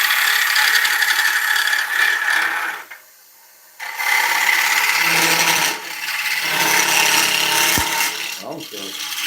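A wood lathe hollows an oak bowl with loud, continuous scraping and whirring from the tool on the spinning wood. There is a brief gap near the middle and a few knocks toward the end.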